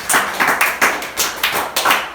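A church congregation claps together in a loud, rhythmic beat, about three sharp claps per second, close and without speech.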